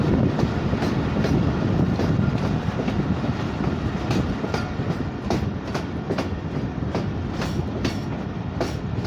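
Train rolling steadily along the rails on the Kolpur to Sibi line, a loud continuous rumble with regular clickety-clack wheel beats repeating throughout, no voices.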